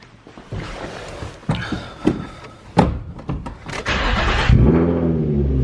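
A Nissan 350Z with a titanium exhaust cranks and fires up, following a door thud and some handling noises, then settles into a loud, steady idle rumble close by.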